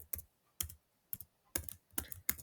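Keystrokes on a computer keyboard while typing code for a Unity 2D Flappy Bird game, arriving as short clustered bursts of clicks with brief pauses between, close and fairly quiet, with no talking.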